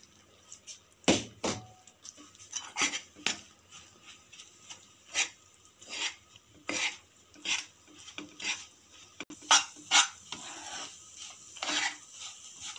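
Ground makhana and dry fruits stirred in a hot pan with a spoon, giving repeated scraping and rubbing strokes in an irregular rhythm, close and moderately loud, with no talk.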